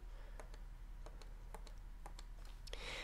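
Buttons pressed on a TI-84 calculator make soft, close plastic clicks, about ten spaced taps over a low steady hum.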